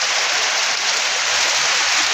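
Heavy rain pouring steadily and loudly in a dense, unbroken hiss with no other sounds.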